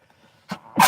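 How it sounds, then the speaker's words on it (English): A person sneezes indoors: a short burst, a brief pause, then a louder explosive burst at the end, close and otherwise quiet. "I just had to sneeze real quick"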